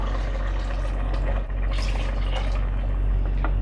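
Two cups of water pour into a pot of white beef stew with whole spices, a loud, close, continuous splashing that runs for several seconds with no talking.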